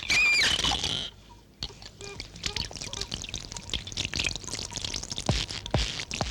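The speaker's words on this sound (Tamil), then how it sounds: "ஊத்து தண்ணிய." Water is poured over a sickle used to butcher a goat, washing it in a film scene: a brief rushing splash at the start, followed by scattered clinks and small knocks.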